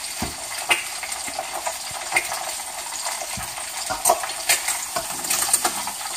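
Eggs fry in a pan with a steady hiss and crackle, close by, with repeated metallic clinks and scrapes of a skimmer against the pan over the sizzle.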